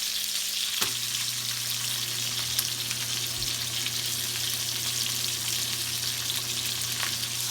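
Meat sears in a hot pan with a loud, even, unbroken sizzle that holds steady throughout. A faint low hum sits under it, with one brief knock near the start.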